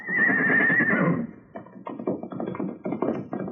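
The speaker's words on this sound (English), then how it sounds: "His horse saw us and ran." A horse whinnies loudly and shrilly for about a second, followed by a rough, uneven series of snorts and hoof-like thuds close by.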